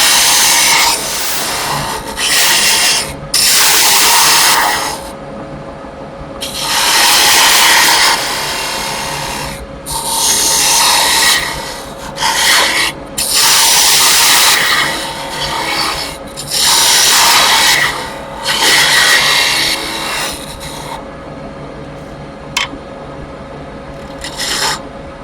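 A Carter Axe fitted with a round carbide cutter carves a cove into wood, giving harsh, loud rasping bursts of grinding that start and stop in irregular strokes with short pauses between, no talk.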